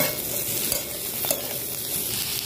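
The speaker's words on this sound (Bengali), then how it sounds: "ফের একটু টমেটো কুচি দেবো, দিয়ে নেড়ে চেড়ে নামিয়ে নেবো।" A spatula stirs chopped tomato through a corn dish in a kadai, a soft continuous scraping and sizzle with small clinks, close and steady, with no talk.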